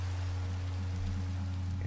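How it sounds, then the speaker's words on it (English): Steady rain in Minecraft falls as a continuous, even wash of noise, with a constant low hum beneath it and no talking. "We've got rain."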